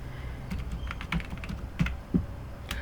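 Fingers tap a computer keyboard while entering a command into a Windows command prompt, a quick irregular run of light clicks with a few sharper keystrokes, close up and otherwise quiet.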